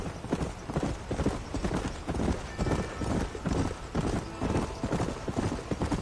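Horse hooves galloping in the Western video game Red Dead Redemption, a fast, steady clip-clop rhythm that keeps going without a break, moderately close, with a brief whinny-like tone partway through.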